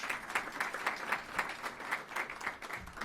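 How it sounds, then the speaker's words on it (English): Conference audience applauding the founder at a Canada–Greece forum, a steady patter of many hands clapping, moderately distant and fairly quiet, continuous for about three seconds. "please, let's give him an applaud"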